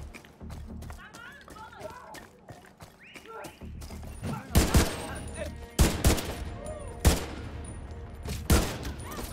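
Gunfire in Tom Clancy's The Division 2 cracks out in several loud, spaced shots and short bursts, while someone talks over the game sounds.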